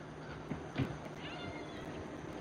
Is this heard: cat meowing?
yes